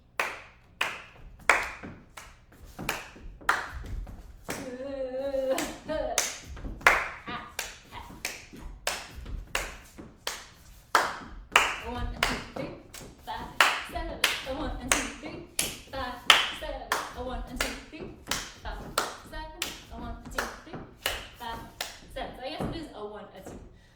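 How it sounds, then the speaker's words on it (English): Steady hand claps land on beats 2 and 4 through a jazz dance session, crisp and close, interleaved with quicker tapping footwork that keeps a continuous rhythmic pattern. "clapping on every 2 and every 4 while I'm dancing"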